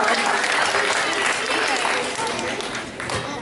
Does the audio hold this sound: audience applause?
yes